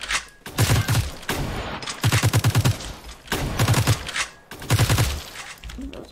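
Bursts of rapid gunfire in the War Simulator video game, four loud volleys of quick shots with reverberant gaps between them, no talking.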